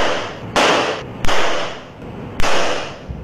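Rubber balloons burst one after another as orange peel juice is squeezed onto them, three sharp loud pops spaced roughly a second apart over a rushing background.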